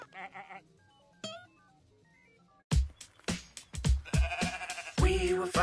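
Several voices bleat and baa like sheep in a sung, playful rhythm, loud and close, after a quieter musical opening with short tones.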